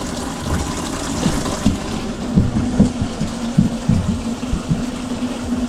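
Water runs hard from a tap inside a converted school bus tiny home, a steady rushing flow with uneven splashing pulses, close and fairly loud.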